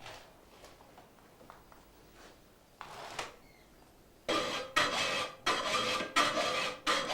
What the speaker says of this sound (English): First, he does a rough filing.